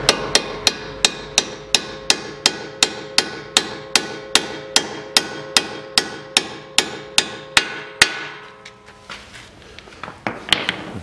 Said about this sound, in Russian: Брызну его ВД-шкой и выбиваем его.